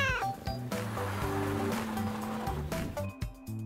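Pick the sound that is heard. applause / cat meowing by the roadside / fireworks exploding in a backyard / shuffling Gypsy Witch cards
cat meowing by the roadside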